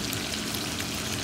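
Pork chops pan-fry in a hot pan, a steady, close sizzle and crackle of fat with no pauses and no talk.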